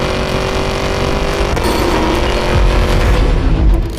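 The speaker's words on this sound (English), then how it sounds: "the Escalade V's engine sounds like it comes from hell" A Cadillac Escalade V, its engine shared with the CT5-V Blackwing, and a Ford Raptor R accelerate side by side in a drag race, giving a loud, continuous engine roar that swells slightly toward the end.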